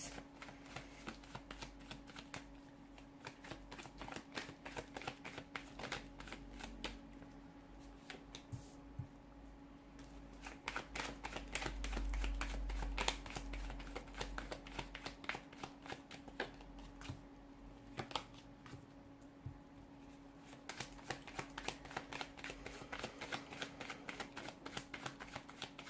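Tarot cards are shuffled by hand in a long run of crisp, rapid riffling and flicking bursts, close and fairly quiet, with no talking.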